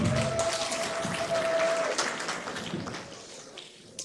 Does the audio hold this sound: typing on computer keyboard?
no